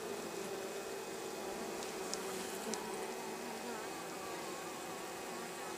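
Honeybees on their first spring cleansing flight around the hive drone in a steady, dense buzz, with a few individual bees passing close by.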